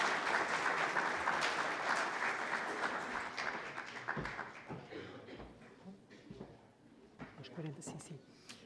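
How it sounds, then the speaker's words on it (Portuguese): Seminar audience at a national security and defence conference breaking into applause, dense clapping loud at first then thinning and fading out over several seconds, with a few voices underneath. "para quem eu peço uma grande salva de palmas"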